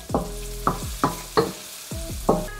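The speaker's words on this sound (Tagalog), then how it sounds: "Gisahin nyo lang maigi." Ingredients sauté in a pan for Pinoy style spaghetti, with garlic going into the oil. The sizzle runs under a series of about six sharp scraping stirs or taps at a steady, unhurried pace.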